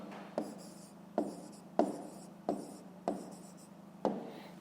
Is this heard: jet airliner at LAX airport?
no